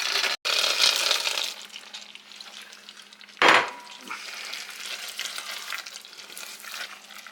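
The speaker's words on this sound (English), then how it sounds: "stir the peanuts, continue cooking to 305 degrees" A spoon scrapes and stirs peanuts through bubbling, sizzling candy syrup close by, with one louder splashy stir midway and steady simmering throughout.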